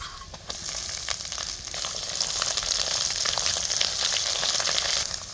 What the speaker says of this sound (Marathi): आता हे आमचं लाल कोल्हापुरी तिखट एक अर्धी पळी टाकायची तेलात आणि पाट्यावर वाटलेला मसाला